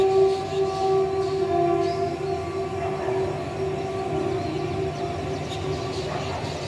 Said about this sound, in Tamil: எங்கள் வீட்டு பக்கத்தில் ரயில்வே ஸ்டேஷன் இருக்கிறனால ட்ரெயின் சவுண்ட்ஸ்லாம் கேட்கும்